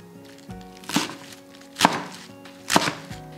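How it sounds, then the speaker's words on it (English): Chinese cabbage roughly chopped on a wooden board, with three or four distinct, close knife thuds spaced about a second apart, each with a crisp crunch, in a quiet room. "Roughly chop the Chinese cabbage."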